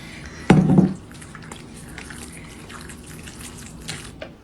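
Lime Jello splashes into a crystal bowl, a short wet slosh and plop that fades into quiet drips and faint rustling.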